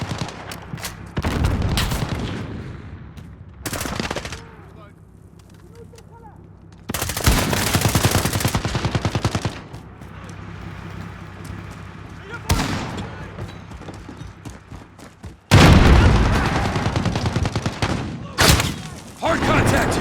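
Gunfire in the video game Modern Warfare: loud bursts of automatic weapon fire in several separate volleys, with sharp shots and quieter gaps between, while voices shout over the action.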